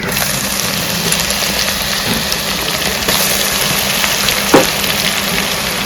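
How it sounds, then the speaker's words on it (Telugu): Ginger, garlic and coconut paste fries in a pan with a steady, loud broadband sizzle that holds throughout, a faint low hum beneath and one brief sharper crackle or stir near the end. "ఇది కూడా ఒక ఐదు నిమిషాలు ఎర్రగా వేగే వరకు వేయించుకున్నాము"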